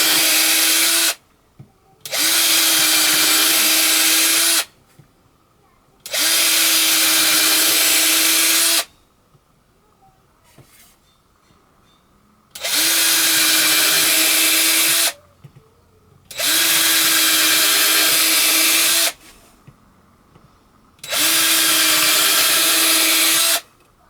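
A power drill bores holes into wood while building a blending hackle, sounding in five loud, sustained whining bursts of about three seconds each, separated by short quiet pauses.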